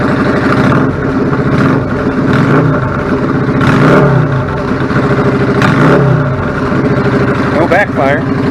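A warmed-up 1999 Yamaha V-Star 650 Classic with a clogged pilot jet runs close by with a loud, steady rumble and regular throb, occasional rises in revs, and someone speaking over it.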